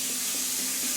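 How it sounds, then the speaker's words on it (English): Water runs steadily from a tap into a sink, a continuous close rushing hiss with no break and no voices. "I just kind of let the water run a little bit"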